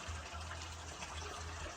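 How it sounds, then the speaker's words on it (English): Small creek running beside a camp shelter in the Smokies on the Appalachian Trail, a steady, soft broadband rush and burble of flowing water heard close by, continuous with no voices. "Listen to the creek right from my bed."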